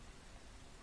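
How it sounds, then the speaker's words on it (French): Rain falling in the video game Metro Redux 2033, a faint, even hiss of drops with no talk over it. "Ouais, il pleut."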